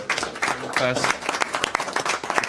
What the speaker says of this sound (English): I think we should give you a round of applause for your great work